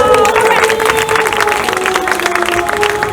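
Loud, steady applause from the audience at a Shrimad Bhagavat Katha gathering in Bahadrabad, a dense wash of many hands clapping over a sustained musical drone, with some voices mixed in.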